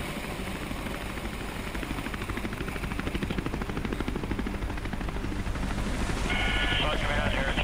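An RCMP helicopter lifting off and climbing straight up out of a canyon during a search and rescue, its rotor chopping loud and steady, with the pitch and intensity building toward the end.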